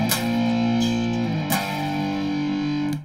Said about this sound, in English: So we can play those chords, sound like this.